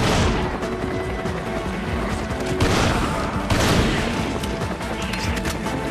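Dense, rapid gunfire crackles continuously in Resident Evil 5 Mercenaries mode, Village level, with heavier bursts and bangs punching through a busy, loud battle din.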